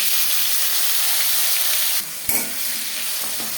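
A bay leaf, an onion and tomatoes drop into hot refined oil for a potato chicken curry, a constant loud sizzle broken by a sudden burst and a couple of stirring knocks.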